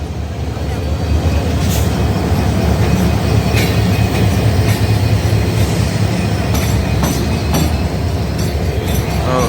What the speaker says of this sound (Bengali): এই যে ইঞ্জিন বাইর হয়ে গেল আমাদের পরিমার এক্সপ্রেস এটাও বাইর হয়ে যাচ্ছে